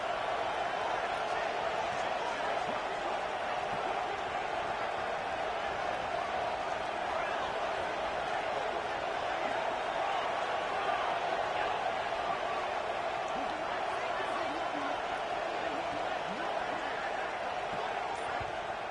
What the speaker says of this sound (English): the crowd roaring, trying to make it difficult